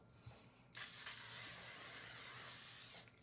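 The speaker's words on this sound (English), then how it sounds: "now you can do the long wearing setting sprays" A long-wearing makeup setting spray gives a single close, steady hiss of mist lasting about two seconds, preceded by a faint click, in an otherwise quiet room.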